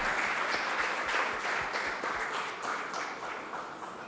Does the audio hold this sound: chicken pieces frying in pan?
no